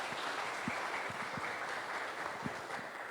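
A church congregation applauds steadily during a Sunday mission service, a dense, even wash of clapping from many hands that carries on for the whole stretch with no pauses.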